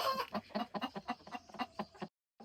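Chickens clucking softly on their roost in a dark coop at dawn, a run of close, rhythmic low clucks that stops abruptly, then resumes briefly.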